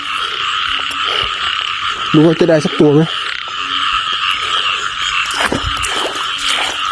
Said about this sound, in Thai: กบเข้าคู่แพ็คครับผม